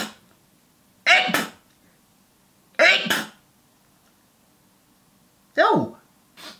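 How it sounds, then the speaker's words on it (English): Three sharp, loud sneezes spaced a couple of seconds apart, each a sudden burst in an otherwise quiet room. "I feel like I'm going to sneeze."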